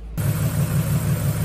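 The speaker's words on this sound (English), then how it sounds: "let's start the engine and read the waveform" A car engine cranks over and catches, then settles into a steady, loud idle that runs on alone.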